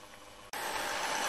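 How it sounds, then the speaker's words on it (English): A Hornby Hogwarts Castle model locomotive's motor starts up and runs, the faint background giving way suddenly to a steady, quiet, even whir that holds until the end. "she's got a much quieter motor than the other one"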